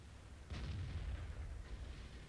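Shells strike an American T29 heavy tank's turret in a World of Tanks–style game, a muffled low boom and metallic impact rumble at moderate level, no talk.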